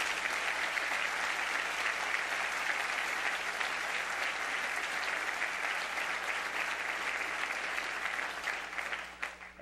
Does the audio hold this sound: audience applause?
yes